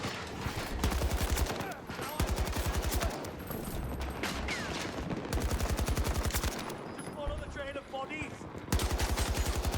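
Rapid bursts of automatic gunfire in the video game Battlefield 2042, loud repeated volleys separated by short pauses, with smaller game effects in between.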